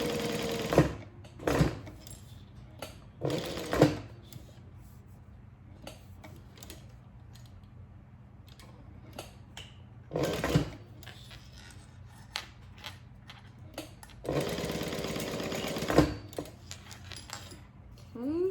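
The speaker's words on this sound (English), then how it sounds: "sewing all the way around. That's what I'm doing right now." A sewing machine stitches around a Trailblazer backpack piece in short, separate bursts of whirring and clicking, with quiet gaps between runs and faint handling noises.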